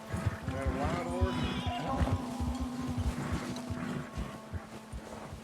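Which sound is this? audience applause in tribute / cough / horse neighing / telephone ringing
horse neighing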